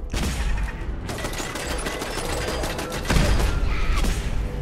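Rapid automatic turret gunfire in the video game Fallout 4, a dense burst of repeated shots with mechanical clatter, continuous and loud throughout.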